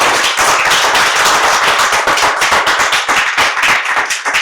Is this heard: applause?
yes